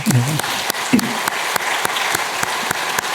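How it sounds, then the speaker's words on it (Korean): Applause from a church congregation welcoming a missionary family, with a few sharp, distinct claps standing out, while a voice speaks briefly at the start. "우리 환영의 박수 부탁합니다"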